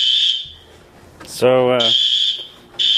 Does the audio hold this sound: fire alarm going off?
yes